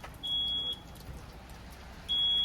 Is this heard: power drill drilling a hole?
no